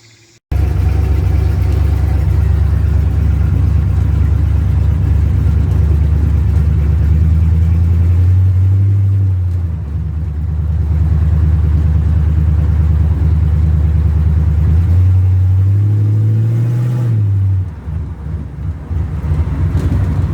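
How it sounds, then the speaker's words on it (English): A 1966 Toyota Stout truck returning from a test drive, its engine droning loud and steady at low pitch close by, rising twice as it revs, then easing off near the end. "You just seen me come from a test drive"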